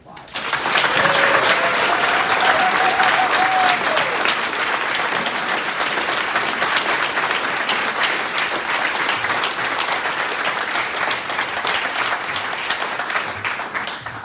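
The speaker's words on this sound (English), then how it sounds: "So let's give Teresa a round of applause." An audience at a top teacher awards ceremony gives a teacher a long, loud round of applause, a dense steady wash of clapping that swells at the start and carries on evenly before tapering slightly, with a brief voice early on.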